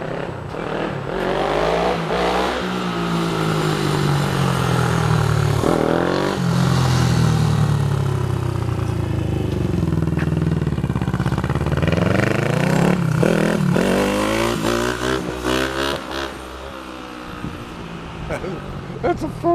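A Honda CB450 motorcycle engine revs and rumbles while riding, loud and close, rising and falling through gear changes with clatter throughout.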